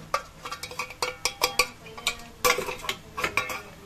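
Spice mixture of prawn masala, chilli powder, turmeric, biryani masala and coriander powder stirred in a pan, with a quick rhythmic series of metallic scraping clinks, close and moderately loud, with no talk.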